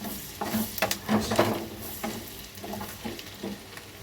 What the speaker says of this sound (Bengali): রসুনগুলো একটু ভাজা হোক